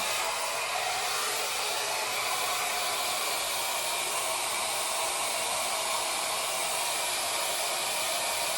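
Shark hair dryer running on its low heat setting, a loud, steady, close-up airy roar that holds without change from start to finish with no voices.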